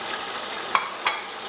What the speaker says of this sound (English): I'm stirring it.